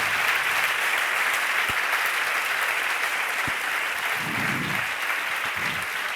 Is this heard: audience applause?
yes